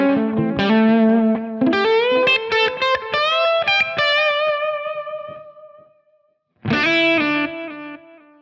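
A distorted electric guitar through a Line 6 Helix preset with delay switched on: a run of bright picked notes trails off into fading repeats, then a fresh chord rings out after a short silence.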